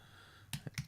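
A few quick computer keyboard keystrokes, three distinct clicks in close succession over a quiet room background.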